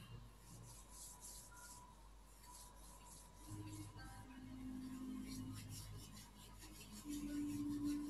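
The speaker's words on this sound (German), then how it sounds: "Die Hände reiben." Two hands rubbing briskly together during a guided relaxation exercise, a soft continuous friction rasp held close to the microphone over a quiet room hum.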